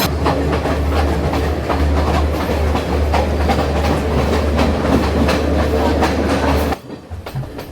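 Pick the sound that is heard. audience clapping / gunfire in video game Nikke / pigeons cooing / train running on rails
train running on rails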